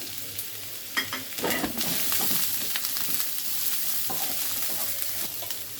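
Onion, garlic and green chillies fry in a pan with a soft continuous sizzle, broken by a few scraping stirs and spoon knocks near the start, close but fairly quiet, with no voices.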